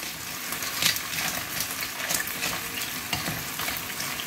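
Clams in black bean sauce sizzle and fry steadily in a hot pan, with scraping stir strokes and brief splashy bursts, close and continuous with no talking.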